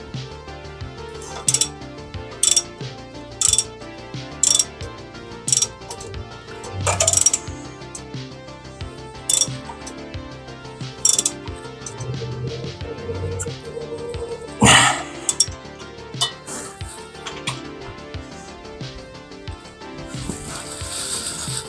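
A hand ratchet tightens a bolt on a 1979 Lincoln Mark V, making a series of sharp metallic clicks in uneven bursts over a low background hum, with occasional clinks.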